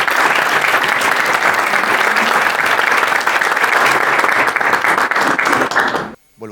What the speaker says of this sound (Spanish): recibamos con un gran aplauso a estos 4 exponentes del mercado.